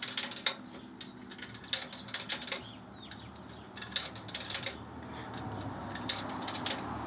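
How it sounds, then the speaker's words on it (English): An old coin-operated quarter vending machine at an abandoned car wash gives off a scattered series of metallic clinks, clicks and rattles from its coin mechanism, close and moderately loud with irregular spacing and no talk. "let's see how this vending machine works"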